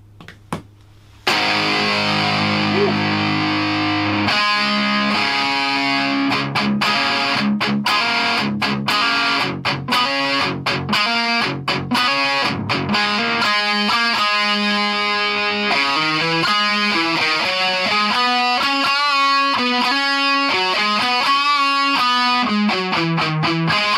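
Distorted electric guitar played through a channel of a Line 6 Spider amp, a dense continuous run of notes and chords that stays loud and steady after a brief quiet start, with no talking.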